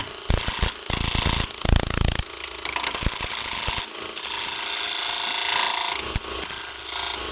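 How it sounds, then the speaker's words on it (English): Wood lathe turning a small, very shallow tenon on the end of a quick ornament, a loud continuous scraping and chattering of a tool cutting spinning wood, close up with brief rougher catches and no talk. "First thing I'm going to do is turn a small, very shallow tenon"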